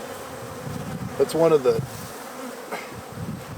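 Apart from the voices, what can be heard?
Russian honey bees buzzing at the hive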